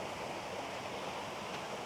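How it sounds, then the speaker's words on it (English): Water rushes steadily across a ford that looks like a small river, a dense, continuous wash heard close and even, with no voices. "there's a ford which actually looks like a small river."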